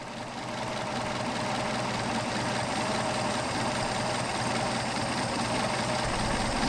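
A Mercedes 190SL engine idles steadily on Solex 44PHH carburetors during tuning, giving a continuous, even, close-up rumble for several seconds with no talk over it.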